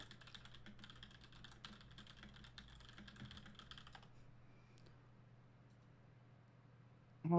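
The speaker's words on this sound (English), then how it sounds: "The most perfect typing sounds I've ever heard in my life." Rapid typing on a computer keyboard, a steady run of close, crisp key clicks for about four seconds over a low hum, then trailing off into quieter ambience.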